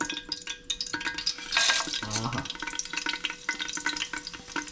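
Biryani masala hits hot ghee and pure rice bran oil in a pan, giving a short burst of sizzling and frying with stirring scrapes, surrounded by lighter kitchen clatter.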